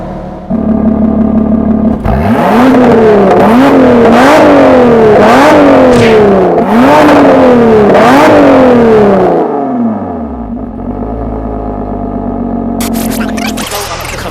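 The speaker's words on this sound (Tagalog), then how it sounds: "Ipaparinig ko sa inyo kung ano ang nagwawala at rumbling sound ng isang exotic sports car." A 2014 Porsche 911 Turbo S engine revs loudly and repeatedly in rising sweeps, then rumbles down to a lower idle near the microphone.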